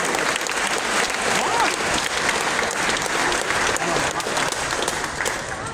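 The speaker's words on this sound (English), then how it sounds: "So big round of applause for Paws." An ice hockey crowd claps loudly and continuously, dense applause sustained at a steady level from start to finish.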